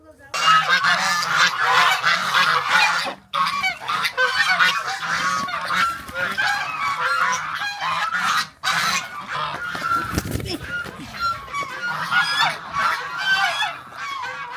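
A flock of geese honks loudly and continuously at close range, overlapping raucous calls with brief pauses and some rustling.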